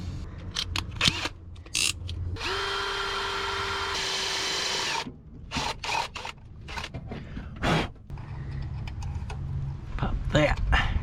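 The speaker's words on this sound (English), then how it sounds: "Ah, picked a bad drill bit." A power drill with a poor bit whirs steadily for a couple of seconds, close and loud, between clicks, clatter and handling noises, during carburetor repair work.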